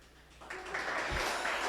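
An audience at a product management talk breaks into applause, faint at first and swelling into steady clapping that keeps building to the end.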